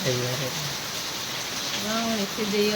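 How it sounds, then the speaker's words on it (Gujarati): A sudden heavy rainstorm pours down steadily with a dense, even hiss; brief speech is heard at the start and end over the constant rain. "અચાનક વરસાદ આવ્યો."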